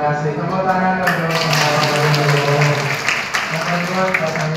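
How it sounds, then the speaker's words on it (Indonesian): A congregation applauds during a 50th wedding anniversary thanksgiving Mass, dense clapping running steadily under sustained music with tonal hum, loud and continuous. "Tepuk tangan untuk"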